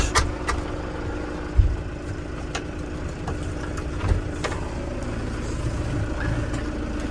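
A Valtra N92 tractor's diesel engine runs steadily at idle after starting, a continuous low rumble with a few brief knocks and clunks and no talk.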